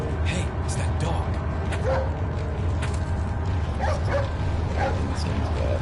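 A dog barks and whimpers in the video game Resident Evil 4: a string of sharp yips and whines over a steady, dense game background rumble.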